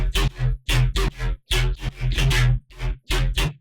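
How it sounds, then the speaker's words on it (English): A deep sub bass and a vocoder synth play together in a riddim drop made in Ableton, with loud, tightly gated stabs in a stuttering rhythm, a heavy low end pulsing under buzzy, harmonic vocoder bursts. "that sub and that vocoder together"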